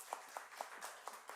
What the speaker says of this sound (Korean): 잠깐 일어나서 우리 환영의 박수 하겠습니다